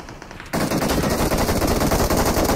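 Rapid automatic gunfire in the BGMI battle royale game starts after half a second of quiet and continues as a dense, loud, continuous burst of shots, with no speech.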